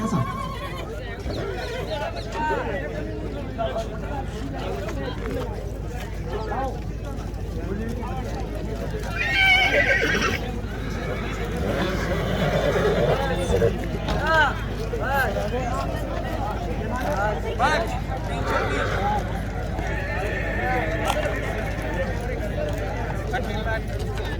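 A horse whinnies amid crowd babble and talk at an outdoor horse show competition at the Ranakpur Jawai Dam festival, the neighing rising out of steady background chatter and a low hum.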